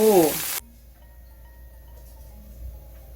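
Pork hind leg meat fries in a pan, a loud burst of sizzling at first that abruptly drops to a faint, quiet crackle for the rest.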